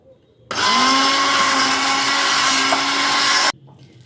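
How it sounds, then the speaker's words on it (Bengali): A hand blender whirs loudly and steadily for about three seconds grinding lentils, starting and stopping abruptly, with quiet room sound before and after. "এবারে এটা আমি একটা হ্যান্ড ব্লেন্ডারের সাহায্যে পিষে নেব"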